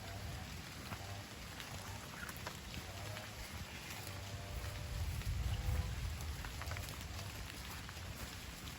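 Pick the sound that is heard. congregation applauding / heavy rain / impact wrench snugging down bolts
heavy rain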